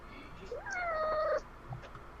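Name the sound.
cat meowing angrily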